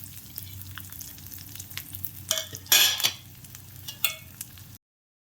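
Crushed garlic hits a hot frying pan and sizzles steadily while a utensil stirs and scrapes it. Several louder scraping strokes stand out over the constant frying hiss, with no voices.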